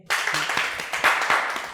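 Studio audience applause for a singer on a talk show, a dense burst of clapping that starts abruptly and holds steady with a few louder swells.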